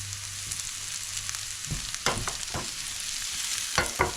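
Broccoli and carrots sizzle in a frying pan for chicken chow mein as a utensil stirs and scoops them out, with a steady frying hiss broken by close scraping strokes.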